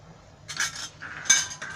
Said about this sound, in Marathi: आता मी हे झाकण काढते.